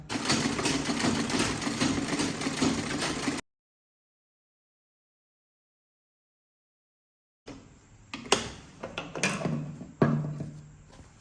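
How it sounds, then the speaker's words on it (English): A sewing machine stitches around the edge of an old boater hat being remade into a fascinator, running in a steady whirring burst, stopping into silence, then resuming with clunks and knocks, close up and alone. "So now I'm going to sew all around the edge just like we met the first original design."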